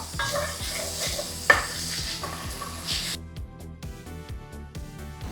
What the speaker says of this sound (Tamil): அடுத்து இதில் ஒரு சின்ன சைஸ் தக்காளி கட் பண்ணி வச்சுருக்கேங்க அதையும் சேர்த்து வதக்கிக்கலாம்